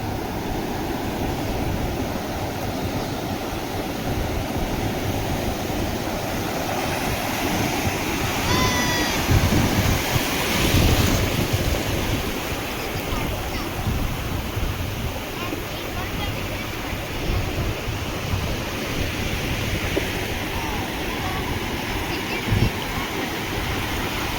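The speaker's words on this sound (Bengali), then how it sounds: "ঢেউটা আসছে দেখো।" Sea waves breaking on the beach at Mandarmani where people are bathing, a continuous close roar of surf that swells briefly midway, with voices faintly under the wash.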